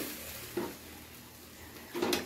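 Chicken in yogurt is stirred in a pan over a low gas flame for lemon chicken. Two short scraping stir strokes rise over a soft, steady sizzle, with no voices.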